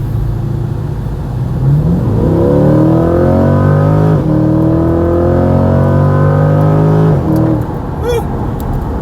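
A C8 Corvette Stingray 70th Anniversary Edition, a 495-horsepower mid-engine car, accelerates hard, its loud engine note rising steadily through the gears with a brief shift break, heard from inside the car.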